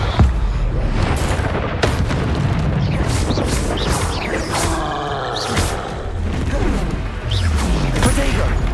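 Confringo fire-blast spells bursting in the wizarding game Hogwarts Legacy, with repeated heavy booms and crackling impacts over constant battle noise, loud and close, while a person shouts over them.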